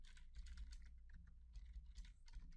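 Soft, steady clatter of keys on a computer keyboard while PL/SQL code is written for an Oracle database, quiet and continuous with no talking.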